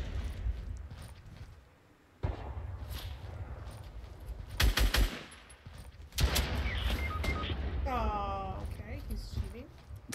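Video game gunfire comes as several sharp cracks and short bursts, with one cluster near the middle, set against steady game ambience and movement noise while a player talks through parts of it.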